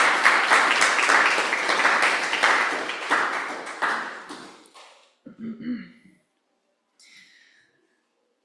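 Poetry reading audience applauding Kathryn Cowles, a dense round of clapping that fades out after about five seconds, followed by a few coughs and small noises in a quiet room.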